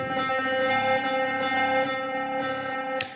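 Sustained Nord piano tones smeared by reverb, delay and granulator effects into a shimmering, echoing drone with layered repeats, ending in a brief bright click.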